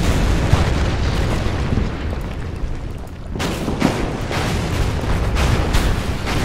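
An explosion striking an anti-aircraft gun in the Order of Battle war strategy game, a loud booming blast amid continuous rumbling battle noise, with further sharp bursts after a brief lull and no talking.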